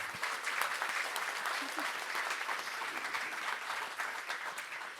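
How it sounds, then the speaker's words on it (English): An audience aboard the hospital ship Global Mercy applauds a medical panel and its moderator, a steady wash of many hands clapping at moderate distance throughout, with no pause. "could we just have a round of applause for everybody on the panel and our moderator"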